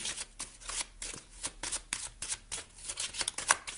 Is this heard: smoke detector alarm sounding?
no